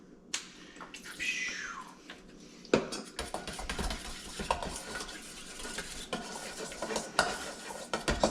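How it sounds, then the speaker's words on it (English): A spoon stirs lime juice marinade in a bowl, scraping and clinking against the sides in quiet, irregular strokes with a few sharper taps, close by and without talk. "Stir that all up into one concoction there."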